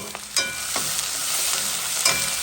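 Pork cracklings (graton) fry in a pan with a steady broadband sizzle, joined by a few brief stirring scrapes and small pops, all close and continuous with no talking.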